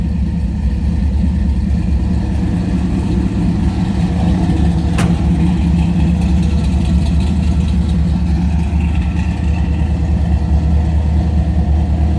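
The 1967 Plymouth Belvedere's V8 idles steadily after starting, a loud, even low-pitched rumble held throughout, with a brief sharp click partway through and no voices.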